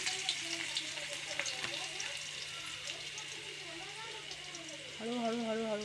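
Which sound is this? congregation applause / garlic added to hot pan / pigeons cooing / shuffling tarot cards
garlic added to hot pan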